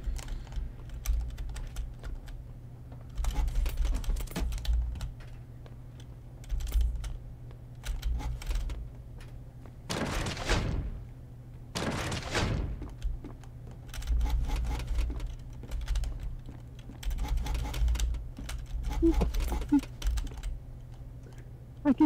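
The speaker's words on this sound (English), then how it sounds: "I can hear all the clicking." Computer keyboard clicking goes on throughout during gaming, with steady bursts of close key taps and a couple of louder swooshing noises midway over a low constant hum, with no talking.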